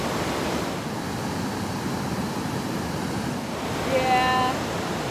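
A full, fast creek on the Rubicon trail rushes with a steady broadband roar throughout, with a brief tonal chirp near the end.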